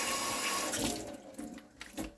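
Kitchen tap runs into a sink while celery is rinsed, a close steady gush of water that breaks into splashes and trickles toward the end.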